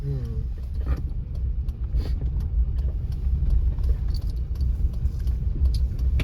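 A car rolls along slowly during a driving lesson, its low engine rumble and road noise steady from inside the cabin, with faint clicks and light rattles scattered through.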